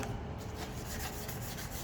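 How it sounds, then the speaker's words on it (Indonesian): Sandpaper rubbing over a plastic part before spray painting, a steady close scratchy rasp of repeated strokes with no talking. "Jadi pastikan kalian amplas ini bisa 2 kali sampai 3 kali."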